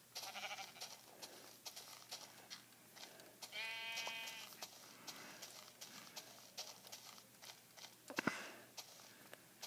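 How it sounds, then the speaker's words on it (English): A Minecraft sheep gives one short, wavering bleat midway, amid quiet game footsteps and soft tapping sounds at low volume. "Sheep"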